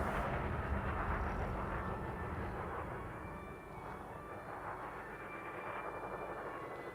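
Spaceship engines in the space game Elite Dangerous roar as the ship pulls away after undocking, a steady deep rumbling drone with a faint wavering hiss, held at moderate volume throughout.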